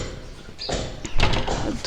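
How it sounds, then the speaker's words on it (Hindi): A window being shut during waterproofing work at a home in Pune, heard as a short sliding rattle and a thud, followed by a louder clunk and scraping, with background noise throughout. "1 सेकंड में ना खिड़की ज़रा बंद कर देती हूँ।"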